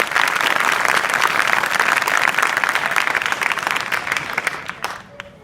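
Students at an Inter College adolescence education program applaud their manager with dense, steady clapping from a large group that fills the room, then thins out and fades near the end.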